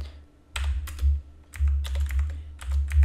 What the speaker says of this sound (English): and then you're gonna type